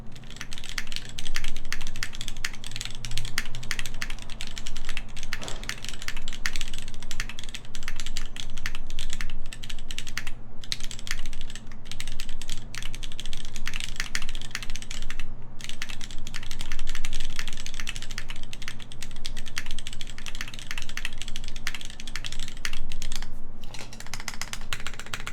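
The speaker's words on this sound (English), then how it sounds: "I'm just gonna do random typing here." Rapid random typing on a TGR 910 mechanical keyboard, a dense, continuous stream of close clacking keystrokes with a few brief pauses and no talk.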